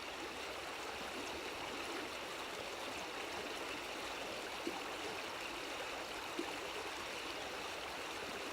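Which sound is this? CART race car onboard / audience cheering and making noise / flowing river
flowing river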